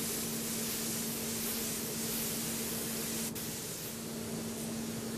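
A paint spray gun hisses steadily while coating car panels, a close, constant broadband spray with a faint tonal hum underneath and one brief sharp tick partway through.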